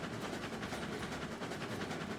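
A steady rolling rumble of a full train behind a steam locomotive rounding a curve in Railroads Online, with faint repeating wheel clacks and constant low-end drone.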